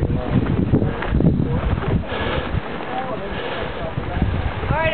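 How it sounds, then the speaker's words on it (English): Strong wind gusting steadily through a Smoky Mountain blizzard with drifts about two feet deep, roaring and buffeting the microphone throughout, with a person talking over it. "And the wind blowing."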